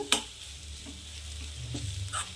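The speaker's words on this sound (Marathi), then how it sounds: "छान मिक्स करायचा" Zunka, a gram flour dish, stirred in a pan: a soft scraping and low sizzle with a couple of light utensil knocks, quiet and close, no voices.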